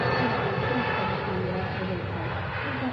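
An Air Transat A321 jet rolling down the runway at Manchester Airport on takeoff, a steady loud roar of jet engines that stays even throughout.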